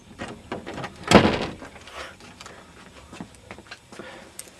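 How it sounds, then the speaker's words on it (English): A door in an old house is pushed open as people pass through, a sharp knock and creak in the first seconds, followed by scattered footsteps and small clatters. "We are now going through a door, as Ewan calls it, a door."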